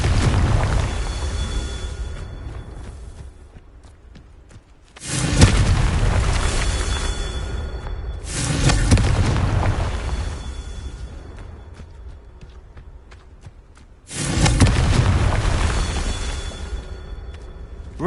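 Confringo spell blasts in the Hogwarts Legacy video game: three loud, booming explosions with sudden onsets, each leaving a long rumbling roar that slowly fades before the next.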